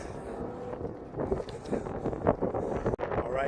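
Outdoor wind buffets the phone microphone in low, rumbling gusts that rise and fall for a few seconds, with no talking over it.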